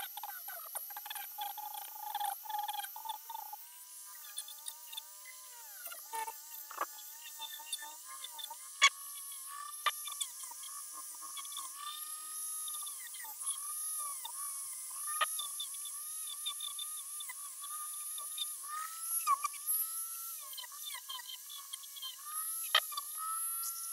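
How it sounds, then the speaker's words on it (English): A rotary tool polishes the metal of a Glock, giving a steady high-pitched whine with wavering tones as the bit presses and lifts, accompanied by scattered scratchy contact sounds throughout. "I'm just going to start polishing"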